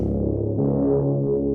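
A deep, sustained synth bass tone from Omnisphere with Trillian, with a rich, swelling harmonic texture, heavily processed and droning alone.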